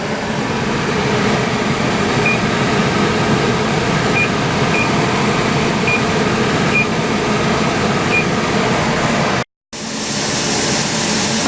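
A pressure canner processing raw-pack boneless rabbit meat vents a solid stream of steam as a loud continuous hiss, with a few faint beeps and one brief cut near the end.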